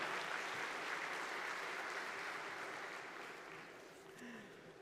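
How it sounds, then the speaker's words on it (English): An audience at a conference applauds CA Vijay Mohan with a full, even burst of clapping that slowly fades over about five seconds, with faint voices underneath toward the end. "I want a bigger round of applause for Vijay Mohan."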